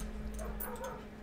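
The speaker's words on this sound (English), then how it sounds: "Next door neighbor's dogs are going crazy." Dogs yip and whimper in a short, agitated burst over a steady low hum, sounding fairly close.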